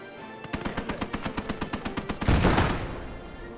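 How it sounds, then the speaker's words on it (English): A .50 cal machine gun firing in the WWII game Gates of Hell, a rapid even burst of about eighteen loud rounds ending in a heavier boom that rolls off into echo. "Got some 50 cal coverage."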